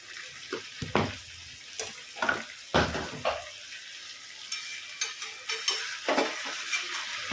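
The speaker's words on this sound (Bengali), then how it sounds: "এবার আমি নাড়িয়ে নেবো" Chicken liver curry frying in oil is stirred in a pan, with a steady oily sizzle under repeated scraping strokes of a spoon, close and moderately loud, and no talking.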